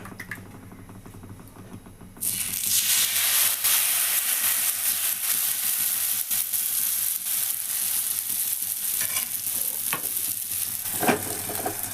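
Dosa batter meets a hot pan while iftar food is cooked: after a quieter opening, a loud, steady, close sizzle bursts in and hisses on without pause, with faint scrapes.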